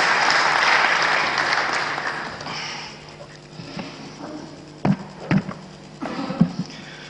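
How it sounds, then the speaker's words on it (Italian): An audience at a lecture gives a brief round of applause that swells at the start and fades after a few seconds, followed by scattered taps and small room noises. "Lo ringraziamo con un applauso"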